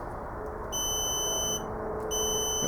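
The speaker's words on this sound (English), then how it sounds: "That's our ohm, and that's our continuity tester." A multimeter set to continuity testing emits a steady, clear electronic tone, sounding in two sustained beeps with a short break between them, while a water heater element is being checked.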